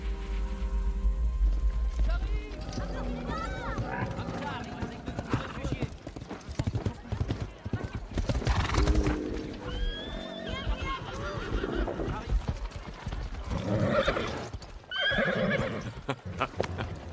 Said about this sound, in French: Tu connais ce cheval?